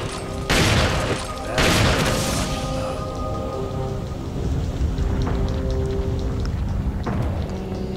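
Two heavy shotgun blasts boom out about a second apart in Resident Evil 4 Remastered gameplay, followed by a rumbling, hissing game ambience with faint metallic knocks.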